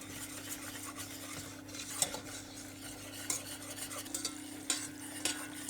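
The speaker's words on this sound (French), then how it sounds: "Et on remue." A utensil stirs a roux in a pan for a cheese soufflé, giving soft, faint scraping and gentle sizzling with occasional light clinks, close and without talk.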